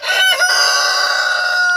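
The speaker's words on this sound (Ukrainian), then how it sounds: "дуже багато півнів тут" A crested rooster crows loudly and close by, one long drawn-out call that holds for nearly two seconds with no other sounds around it.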